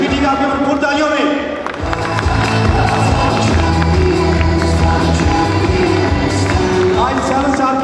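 An audience cheers and claps to welcome back Major Mohammad Aslam at a 7-star celebration, a loud, busy crowd roar blended with music and voices throughout.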